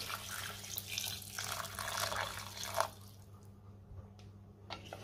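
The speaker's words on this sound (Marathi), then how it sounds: "आता मी त्यामध्ये पाणी घालते।" Hot water pours steadily into chicken cooking in oil in a pan, a close, soft gush for about three seconds that fades to a few faint drips.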